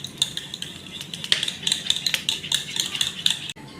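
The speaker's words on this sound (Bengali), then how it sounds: "এখন আমরা ডিম, চিনি এবং দুধটাকে খুব ভালো করে মিশিয়ে নেব।" A utensil whisks eggs, sugar and milk together in a bowl for a pudding cake, making quick, steady clinks and scraping close up, with no talking.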